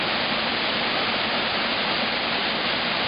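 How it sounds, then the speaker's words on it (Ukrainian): A 15-metre waterfall in the village of Mykolychyn, Ukraine, roars steadily and loudly, a dense, unbroken rush of falling water with no voices. "Зараз ми з вами знаходимося на Бухтівецькому водопаді"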